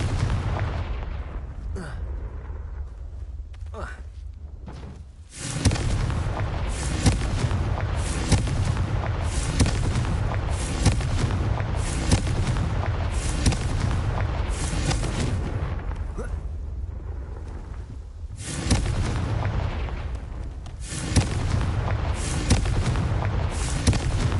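Confringo blasting spell explosions in the video game Hogwarts Legacy, a dense barrage of heavy booming blasts and rumbling impacts, loud and nearly continuous, with brief lulls between volleys.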